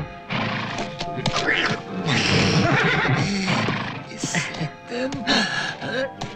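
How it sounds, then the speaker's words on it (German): A horse neighs and whinnies loudly nearby, with snorts and shuffling, while people talk over and around it. "Braves Pferdchen."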